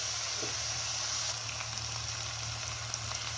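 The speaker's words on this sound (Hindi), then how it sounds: "धनिए, हरे धनिए और कसूरी मेथी के साथ इसे मिक्स करेंगे और थोड़ा सा भूनेंगे" Chicken and cabbage fry in a pan with fresh coriander and dried fenugreek leaves, a steady, close sizzle with a continuous bright hiss and a faint low hum underneath.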